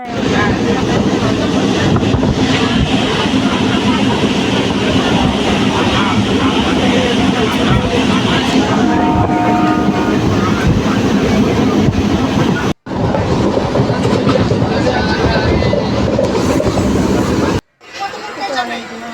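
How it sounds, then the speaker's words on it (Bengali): A train rumbles loudly and steadily near a station on a trip to Kolkata, with wind buffeting the microphone and two brief dropouts toward the end. "তারপর এখন ট্রেনে পাক খাতে হবে একটা ট্রেন ধরার জন্য দাঁড়িয়ে"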